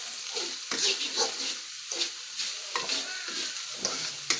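Risol filling with fried shallots and salt being stirred in a frying pan, with scraping strokes of the utensil over a steady close sizzle.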